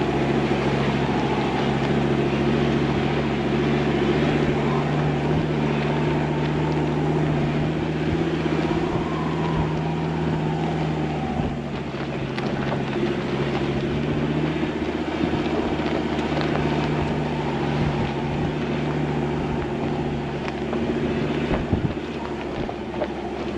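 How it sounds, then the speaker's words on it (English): Steady wind roars across the open mountain terrain of Sani Pass, a continuous broadband rush with a low rumble beneath it, sounding close to the microphone with no talking. "So the wind has picked up"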